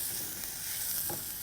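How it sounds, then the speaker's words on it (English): Onions and chopped fennel with a few curry leaves sauté in a hot pan, giving a steady, soft, close sizzle with no talking. "Now I'm just nicely sauteing this"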